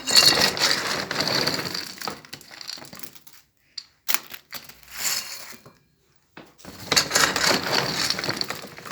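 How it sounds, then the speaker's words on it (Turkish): Dry pet food for street animals rattles and crunches as it is poured into plastic bags, bursts of dense granular clatter with short quiet gaps between pours, close by. "Poşetlerin içine mama dolduralım."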